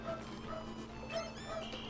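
Dogs in the Mario Party Advance video game yipping and whimpering faintly in a few short repeated calls over a steady background hum, with low voices underneath.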